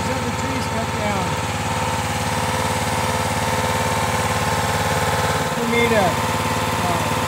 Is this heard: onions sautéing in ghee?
no